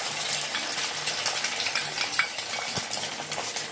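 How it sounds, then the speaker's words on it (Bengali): An egg fries in hot oil with a dense, continuous sizzle and crackle, close up, and a utensil scrapes and taps the pan now and then. "তোমাদের দাদাভাই ডিম ভাজছে"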